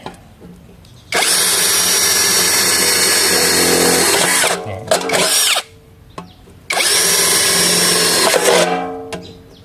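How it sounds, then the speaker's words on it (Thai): An electric drill whines loudly in two long bursts while drilling through a metal can, with a brief stop between, close up, with rattling handling noises in the gap. "ถ้ามีสว่าน มันก็จะเจาะง่ายแบบนี้เลยนะครับ"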